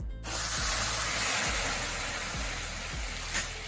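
Salty pasta water hits a hot pan of browning garlic with a sudden loud sizzle that settles into a steady hissing spray, close up.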